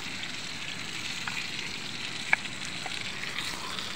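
Food crisps in a blackened cooking pot with a soft, steady sizzle and hiss, broken by a single sharp pop and a few faint ticks.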